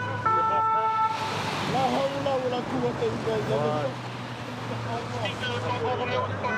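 Emergency siren of arriving fire engines on the Paris ring road at night, a wailing rise-and-fall close by and loud, running under urgent talk with steady traffic rumble beneath.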